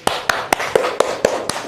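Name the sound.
students applauding in a classroom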